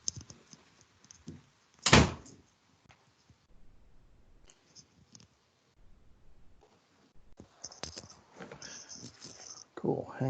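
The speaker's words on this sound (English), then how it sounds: "I got to shut the door here." A door shut indoors at home makes one loud, close thud early on, followed by scattered light rustling and soft handling noises, with a voice speaking quietly around it.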